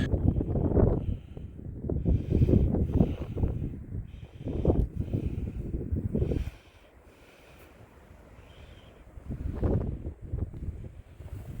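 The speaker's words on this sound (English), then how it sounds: "You can hear the wind." Wind blowing hard at a cliff edge near petroglyph panels in the Vermilion Cliffs, loud gusting rumble buffeting the microphone in surges with a brief lull midway.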